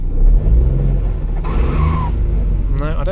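A Mini with a failing gearbox is nursed the last few meters, its engine rumbling low and steady up close with a rising strained whine midway, and brief voices over the drone.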